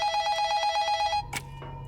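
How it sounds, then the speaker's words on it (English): A telephone bell rings in a rapid trilling burst for about a second, then stops, followed by a brief clatter, close and clear. "Phone."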